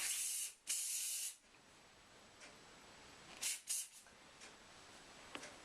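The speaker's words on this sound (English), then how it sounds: "And then we'll just give it some hairspray." Hairspray misted over a finished Celtic knot braid: two loud, close bursts of aerosol hiss, then a quieter pause and a few shorter spritzes over a steady faint background.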